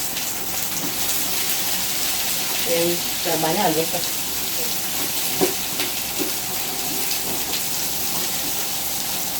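Two Maggi seasoning cubes fry at the side of a pan while fried rice with fresh turmeric cooks, giving a close, steady sizzle with a few soft clinks.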